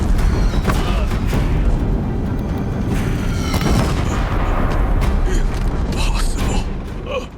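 Deathbringer war machines fire near a bridge in Horizon Zero Dawn, producing dense, continuous heavy booms and mechanical clanking over a rumbling low end, with voices faintly present in the mix.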